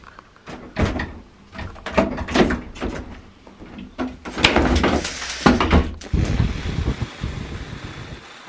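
Cupboard door being taken off during a home job, a run of loud close knocks, thumps and wooden clatters in irregular bursts, ending in a rustling scrape.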